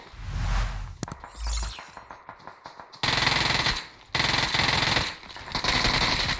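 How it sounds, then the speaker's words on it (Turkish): Bursts of automatic gunfire from a firefight in PUBG Mobile, rapid rattling volleys broken by brief pauses and a few single shots, loud and close, with sharp whooshing effects early on. "Ne çatışma döndü be"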